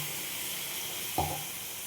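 A steady sizzle of vegetables frying, with one brief sharp hiss and clatter as a paste of white mustard and green chilli goes into the pan for a drumstick chachchari.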